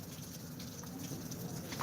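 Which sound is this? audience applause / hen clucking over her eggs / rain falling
rain falling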